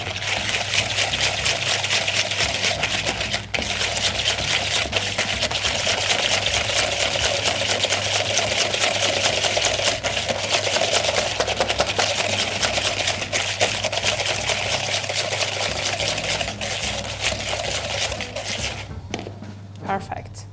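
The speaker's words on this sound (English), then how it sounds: "I'm going to whisk until I get soft peaks." Double cream and sugar are whisked steadily toward soft peaks, giving a continuous fast, dense whirring churn that holds loud and even for about eighteen seconds before tapering off.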